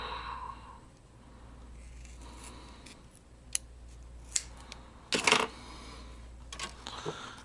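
Scissors snip through the stem of a rubber inner tube: a few crisp, isolated cuts spaced over several seconds, fairly quiet against a low background hum.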